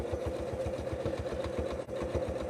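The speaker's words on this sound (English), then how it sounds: "my machine is the 9450 from Janome" A Janome 9450 sewing machine runs steadily while free-motion quilting with glide thread on Moda Bella Solid fabric over batting, giving a fast even mechanical stitching rhythm with a constant motor hum, briefly dipping near the end.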